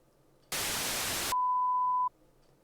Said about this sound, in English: Let's do no signal beep.